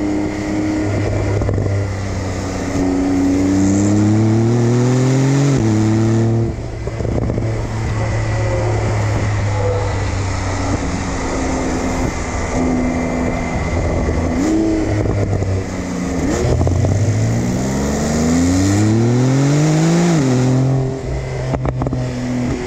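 Porsche 911 Turbo S of the 992 generation with a sport exhaust, its engine revving up and down in loud repeated sweeps close by, with crackles and pops from the exhaust between pulls and no talking.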